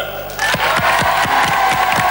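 A French studio audience bursts into loud, dense applause for the national team, the clapping rising sharply after a brief quiet start and then sustaining as a full, rhythmic roar of hands close by.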